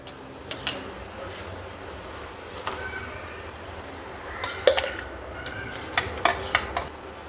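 A spoon stirs crushed lemons into sugar syrup in a pot for sweet-sour lemon chutney, giving faint scraping with sporadic metallic clinks against the pot.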